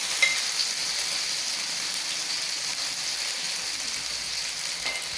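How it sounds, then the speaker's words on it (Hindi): Spiced okra (bhindi) frying in hot oil gives a steady, close, bright sizzle with a faint crackle and an occasional soft tick, unbroken for several seconds. "जी मेरी भिंडी फ्राई हो गई है।"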